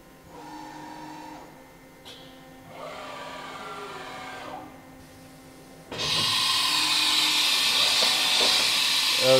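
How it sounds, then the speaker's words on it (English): Automatic tool change on a Milltronics CNC vertical mill taking 40 taper tools: a sequence of mechanical whirs and clunks with pneumatic hissing, ending in a louder sustained air blast, close by in a shop with no talk. "That's the tool change."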